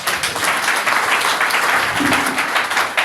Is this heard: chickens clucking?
no